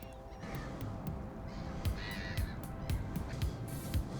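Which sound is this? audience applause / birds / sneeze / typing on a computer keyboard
birds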